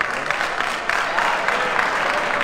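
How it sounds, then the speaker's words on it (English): An audience of nursing students applauds a lecturer in a comedy sketch about adjunct teaching, a continuous crowd clapping with slight swells, close and fairly loud, with no voices over it. "They're applauding?"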